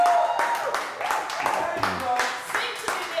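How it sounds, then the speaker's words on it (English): A studio audience on a morning TV show claps in a steady burst of applause, with a voice speaking over the clapping. "Louder, clap louder."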